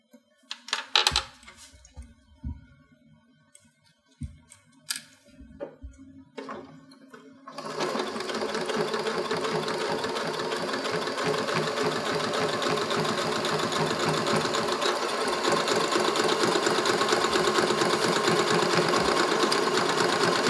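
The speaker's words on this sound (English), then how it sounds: "I'm doing a zigzag stitch so I can go ahead and catch all of that end" Sewing machine running a wide zigzag stitch on a zip bag project: a few scattered clicks and taps first, then a steady, continuous mechanical whirring hum that holds close and even to the end.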